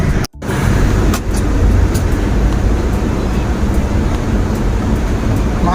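Road traffic on the NLEX northbound expressway makes a constant loud roar of passing vehicles and tire noise, heard from inside a moving vehicle with a brief dropout near the start.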